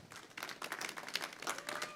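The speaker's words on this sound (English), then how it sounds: "Let's give our artisans a round of applause" An audience at an online mosaic inlay artisan session claps in a dense, steady patter of many hands, moderately loud and close for two seconds without speech.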